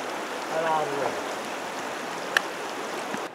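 The Körös river flows nearby along a walking route toward the Zichy cave at Körösrév, a soft, steady outdoor rush with a brief voice early on and a faint click later.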